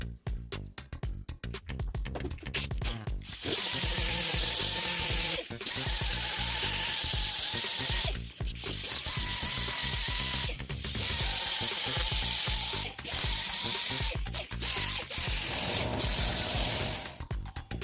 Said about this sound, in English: you're going to find the air compressor is going to get very loud